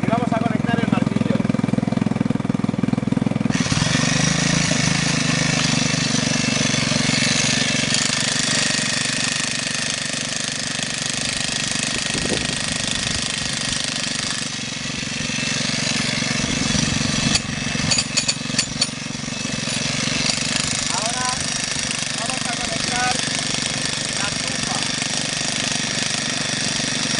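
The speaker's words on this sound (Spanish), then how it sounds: "Ya nos dice que podemos conectar y vamos a conectar el martillo." A loud, continuous mechanical hammering drone from an electric demolition hammer powered by an inverter generator runs throughout alongside an engine hum, with brief shifts in tone and a few sharp knocks partway.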